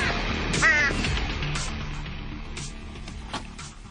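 A crow in a rural mountain setting gives a short, harsh caw early on, then only low background noise follows.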